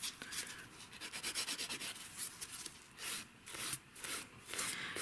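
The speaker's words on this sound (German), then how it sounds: "So, das heißt ganz normal feilen." Gel nail tips being filed with a nail file, a steady close rasping rub in quick repeated strokes with brief pauses between runs.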